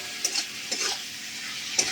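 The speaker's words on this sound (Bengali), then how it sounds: "এবারে এটাকে ভালো করে নেড়ে এটাকে ভাজা ভাজা একটা করে নেবো।" Chilli and sugar being stirred and fried in a pan for chilli okra, with a steady near sizzle broken by a few sharp scraping stirs.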